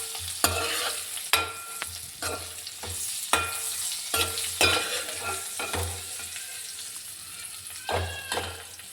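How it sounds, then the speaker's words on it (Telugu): Dried fish fries in a pan, a steady sizzle broken by repeated scraping stirs and clattering strokes at an uneven rhythm, close and fairly loud, with no voices. "ఇలా వేపుకుంటే నీసు వాసన ఉండదు"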